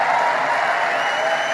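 Large American crowd applauding, a dense, even wash of clapping that holds steady and loud throughout.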